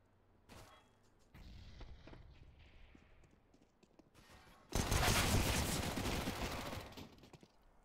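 MAC-10 submachine gun fire in a Counter-Strike match on the Train map: scattered distant shots lead into a sustained, dense, louder burst of rapid gunfire that fades off.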